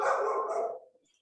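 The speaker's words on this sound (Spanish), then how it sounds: "Y quiero saber quién me está ladrando" A single dog bark rings out close and clear in a home during an online class, then trails off into quiet.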